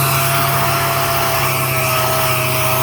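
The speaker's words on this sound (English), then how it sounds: "I know the compressor probably sounds loud" An air compressor runs in a custom Harley-Davidson chopper workshop, a loud, steady mechanical drone with a constant hum and no breaks.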